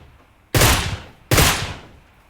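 Two sharp, loud Groza rifle shots in the PUBG Mobile video game ring out about a second apart at long range, each followed by a decaying echoing tail, with no talking.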